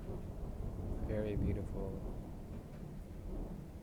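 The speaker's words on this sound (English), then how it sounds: "You can't really hear lightning, but you can hear thunder." Low thunder from a storm rolls as a continuous deep rumble in the background while a person talks over it.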